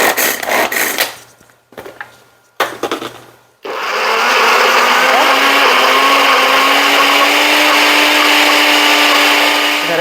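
An electric grater minces fresh ginger with a steady, loud motor whir that starts after a few seconds of brief, choppy bursts and runs continuously to the end.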